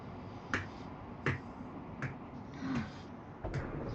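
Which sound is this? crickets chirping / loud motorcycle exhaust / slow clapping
slow clapping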